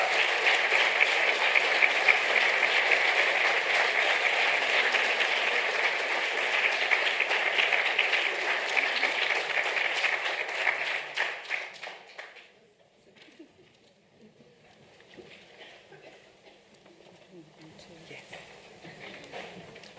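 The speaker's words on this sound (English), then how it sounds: "So this time, the applause is not for me" Sustained audience applause at a lecture on depression and the immune system fills the hall for about twelve seconds, then drops off sharply, leaving faint scattered claps and quiet room noise.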